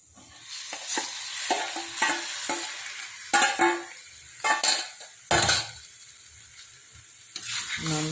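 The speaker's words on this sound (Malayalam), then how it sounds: "നന്നായിട്ട് അങ്ങനെ ഇളക്കി കൊടുക്കുക എല്ലാറ്റിലേക്കും ഈ മസാലയൊക്കെ ഒന്ന് കയറി പിടിക്കട്ടെ" Breadfruit stir-fry tossed with masala in a pan, a spoon scraping and clattering against the metal in uneven bursts over a steady sizzle, close up with no talking.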